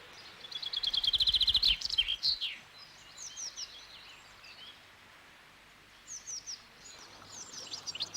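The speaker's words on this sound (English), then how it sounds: "It's the commonest of our finches and has a bright, brief, cascading song." A chaffinch, Britain's commonest finch, sings a bright, brief, cascading phrase close by, followed by scattered chirps and short notes over a quiet outdoor background with some rustling.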